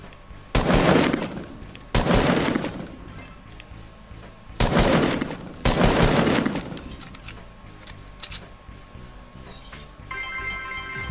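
Bursts of automatic gunfire crackle at Fortnite shooting galleries in a video game, with about four loud volleys of rapid shots separated by short gaps, then quieter scattered pops and a tonal game effect at the end.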